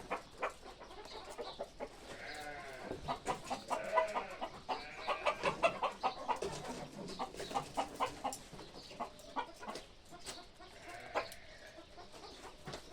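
Native chickens cluck repeatedly nearby at a farm, a busy run of short clucks and calls building in the middle and then fading.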